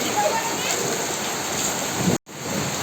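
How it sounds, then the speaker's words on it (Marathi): Steady, dense heavy rain pours down close by during a monsoon-style downpour, a constant hiss with no talking, briefly cutting out near the end before resuming. "बघा कसला मस्तपैकी पाऊस झालाय मोठा"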